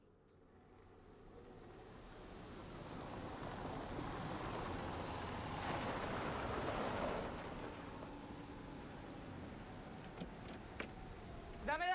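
Waves rolling onto a beach in a steady, soft surf wash that swells and fades, with faint wind and no voices.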